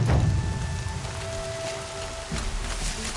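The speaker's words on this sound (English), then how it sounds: "In the rain, my boots will get damp." Rain in the video game Horizon Zero Dawn, a steady hiss of falling drops on surfaces with faint tonal game sounds layered underneath, and no talk.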